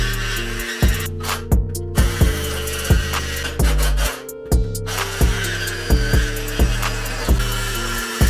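A pipe on a 1985 Honda Magna motorcycle frame is cut with a saw, loud close rhythmic strokes repeating about once a second with a grinding, rasping edge.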